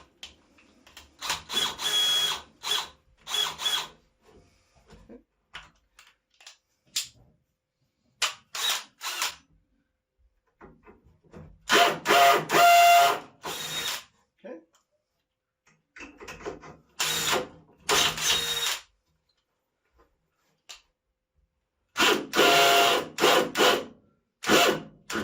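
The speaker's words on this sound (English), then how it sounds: "See, a lot of people just drill right through their wood," Power drill boring into wood at a work table, several loud close bursts of whirring drilling separated by silent pauses.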